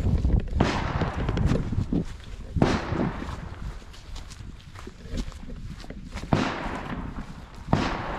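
A gunshot from a turkey hunting outing, a sharp crack that stands out among shuffling footsteps and rustling outdoors, with a few similar loud bangs spread across the scene.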